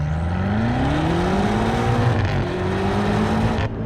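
A BMW M8 Gran Coupe with four-wheel drive launches hard from a complete stop, its engine note climbing steadily through a long, loud, close rising rev that cuts off abruptly near the end.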